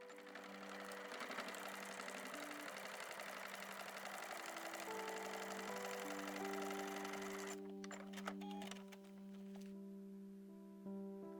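Sewing machine stitching through plastic while making a zippered wallet, a steady close mechanical whir with rapid needle chatter, slowing and changing pitch before stopping, no voices.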